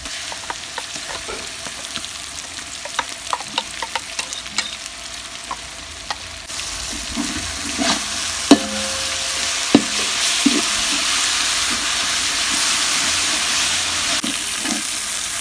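About 150 grams of ginger garlic paste sizzles and fries steadily in a pan for country chicken biryani. The frying gets louder partway through, with scattered clinks and scraping of stirring over the hiss.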